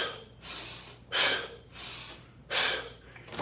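Forceful exhaled breaths during self-defense exercise training, three sharp bursts about a second apart, each a loud, close, rushing blast of air with softer breathing between them.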